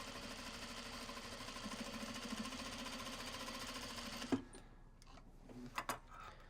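A steady, rapid mechanical whirring of a sewing machine runs for several seconds, then abruptly stops, leaving a few soft clicks and taps in a quiet room.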